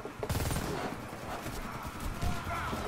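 Gunfire in the video game Warface rattles out in rapid bursts, loud and close, with a dense spell at the start and another near the end.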